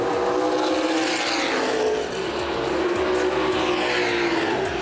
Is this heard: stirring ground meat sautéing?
no